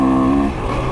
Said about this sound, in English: I'm not complaining at all with how this motor runs.